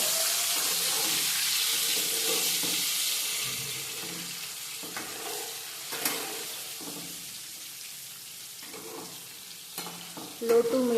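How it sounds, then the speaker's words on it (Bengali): Eggs rubbed with turmeric and salt fry steadily in a pan, a continuous close sizzle with occasional stirring clicks and scrapes, loudest early and easing slightly toward the end. "হলুদ নুন মাখিয়ে নিতে পারেন ডিমগুলোকে আমি হালকা করে ভেজে নেবো"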